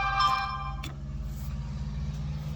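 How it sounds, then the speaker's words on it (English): A loud truck passes outside, a low steady engine rumble with harmonic drone that persists under a brief higher tonal sound at the start, heard from indoors. "It's not, just that truck was that loud"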